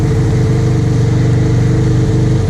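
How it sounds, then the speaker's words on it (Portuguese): A jet ski engine, running with the choke partly pulled back during a leak test, revs up loud and close in a steady, throbbing roar that holds strong throughout with no talk. "Vamos dar uma acelerada legal nele aqui, pra ver como é que ele vai"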